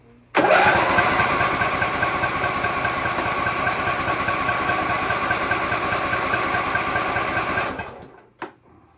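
A 26hp Briggs and Stratton engine, down on power after a new cam install, cranks steadily and rhythmically for about seven seconds without catching, then stops, followed by a brief clunk, loud and close.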